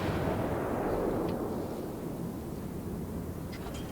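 Rapid gunfire in a video game pumps out shots continuously, a dense, steady barrage of booming blasts with no pauses and nobody talking over it.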